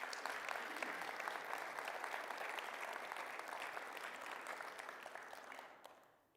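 A church congregation gives itself a sustained round of loud, dense applause that carries on for several seconds before fading out.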